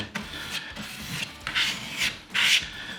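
Filler scraped across wood with a putty knife, repeated rasping strokes in uneven bursts, close and fairly loud with short pauses between passes.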